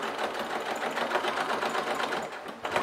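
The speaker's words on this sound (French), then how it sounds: "Et je couds comme ça tout le tour." Sewing machine stitching steadily around a fabric shopping bag, a close, continuous rapid whir throughout.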